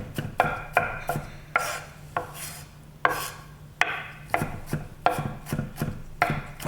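Vegetables being chopped finely with a wide-bladed knife, giving a series of crisp, close knocks on a board in an uneven rhythm, each with a short rasp.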